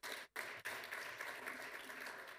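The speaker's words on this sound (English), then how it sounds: "Give him a round of applause" Applause from a conference audience at an education forum on holistic needs, a steady broadband patter of clapping that briefly cuts out twice near the start before continuing evenly, with no voices over it.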